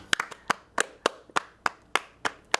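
Scattered, polite applause from a small audience in the video game Dream Daddy, about ten sharp, unevenly spaced claps alone with no voices.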